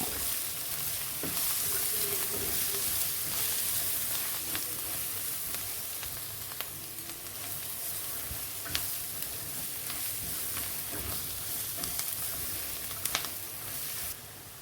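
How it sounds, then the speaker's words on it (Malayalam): Spice powders including fennel being sautéed for garlic cashew chicken curry, a steady sizzle and hiss with a spoon stirring and scraping the pan now and then, close and continuous with no talking. "നന്നായിട്ട് വീണ്ടും വഴറ്റാം."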